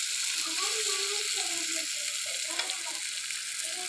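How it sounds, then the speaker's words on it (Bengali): Fish frying in a pan is stirred into spice paste with fennel seed, giving a bright continuous sizzle under a person talking throughout. "মশলাটার সাথে ভালোভাবে মাছটা মিশিয়ে নিচ্ছি"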